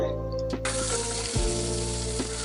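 Onion paste hits hot oil already tempered with cardamom, cinnamon and cloves while making Bengali doi katla, bursting into a loud, steady sizzle that jumps up sharply and carries on close by, with a brief stir partway through.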